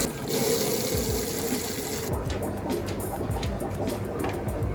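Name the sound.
filling tubs with tap water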